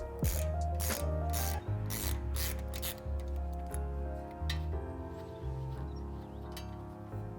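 A ratchet clicks in rapid bursts while loosening the axle nut on a 2015-2020 Ford F150 front suspension during an Icon 2.5 stage 5 kit install, close and loud with a low steady hum beneath.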